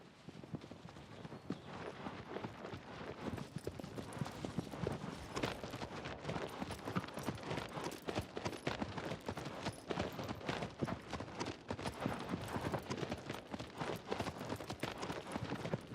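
Horse hooves galloping in the video game Shadow of the Colossus, a steady, rapid clip-clop rhythm that runs loud and continuous throughout with no pauses.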